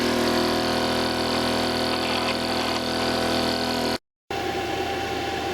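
A small generator engine runs steadily while charging a 48-volt LiFePO4 battery bank, a loud continuous drone with a brief dropout near the end before resuming.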